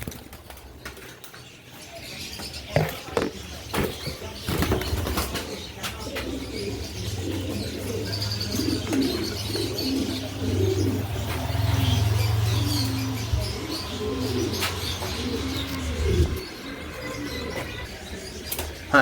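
White Budapest pigeons cooing in a loft, a steady low burbling coo running through most of the stretch with occasional wing flaps and scuffles, close and moderately loud.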